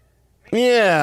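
A man imitates a cat's meow with his voice: one loud, drawn-out close meow that starts abruptly mid-clip after near silence, with rich tonal harmonics.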